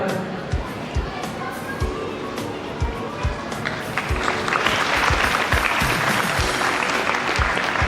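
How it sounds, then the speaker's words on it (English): Continuous applause rises from the crowd at a school felicitation ceremony, swelling louder and denser partway through, with faint voices underneath and close, sharp claps standing out. "Aryan Mavi, a round of applause for him"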